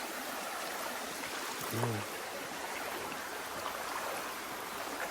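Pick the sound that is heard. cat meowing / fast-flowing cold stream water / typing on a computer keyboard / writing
fast-flowing cold stream water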